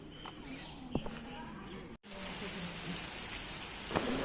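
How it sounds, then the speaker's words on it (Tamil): Steady heavy rain falling around a TNSTC bus in Tirunelveli, a dense continuous hiss with a brief cut midway, a couple of clicks and a faint voice underneath. "உடனே பார்த்தீங்கன்னா செம்ம மழை பிடிச்சிருச்சு"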